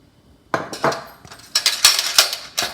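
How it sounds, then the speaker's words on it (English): Metal spoon clinks and scrapes against a pan as marinara sauce is added for a spinach lasagna, with several sharp, close knocks in quick, uneven bursts. "I'm going to put the marinara sauce in pan"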